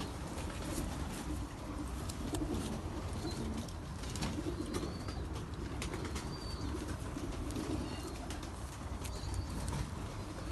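Pigeons, including black ones, kept in a loft in Germany, coo softly in a steady low murmur over a constant background rush, with occasional faint chirps and wing sounds.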